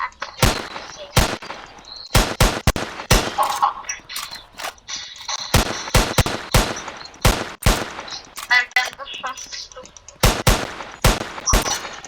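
Gunfire in the GTA video game, with sharp, loud shots spread over about twelve seconds, some single and some in quick clusters, alongside clicking mechanical sounds and light background noise.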